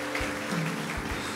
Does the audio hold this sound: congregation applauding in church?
yes